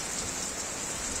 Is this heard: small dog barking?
no